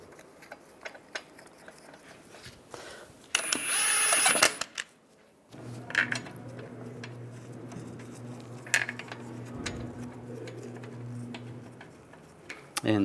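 A lug bolt is threaded into a Volkswagen Beetle wheel and tightened, giving light metallic clicks and taps, a brief loud burst of ratcheting or rattling, then a steady low hum with scattered knocks; a person speaks intermittently.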